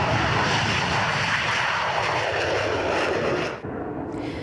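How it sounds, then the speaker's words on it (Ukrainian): Military attack aircraft and bombers taking off, a loud sustained roar of aircraft engines that holds steady and then drops away abruptly near the end. "Ось вони штурмовики, винищувачі і бомбувальники, модернізовані та озброєні до зубів."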